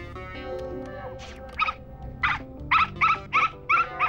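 A dog whimpers and yips in a series of short high cries close to a microphone hidden under a bed, over a steady background of music and room noise in a French animated series.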